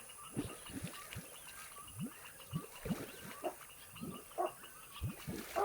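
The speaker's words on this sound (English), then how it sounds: "you can hear my dog being a dog. He likes to bark every time." A pet dog barking over and over in a home during a tabletop game session, sharp repeated barks at an irregular rhythm, fairly close and standing out against a faint background.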